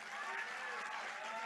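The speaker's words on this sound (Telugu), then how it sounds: "ఇంకొద్ది గట్టి కొట్టాల చప్పట్లు" A crowd at a protest applauding, a dense, steady patter of clapping at moderate distance for a brief stretch.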